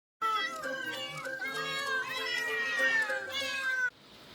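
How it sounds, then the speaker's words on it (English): A thin, high newborn kitten mewing weakly, one long drawn-out wavering cry that rises and falls, close by, ending abruptly into quiet. "The first of her kittens, a tiny black furball, mewed weakly beside her."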